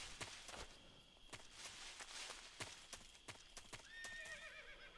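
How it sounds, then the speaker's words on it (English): A horse whinnies in the stealth game Metal Gear Solid 3: Snake Eater, a rising and falling neigh near the end, preceded by steady clip-clop hoofbeats that pulse throughout at moderate volume. "that was definitely a horse's whinny"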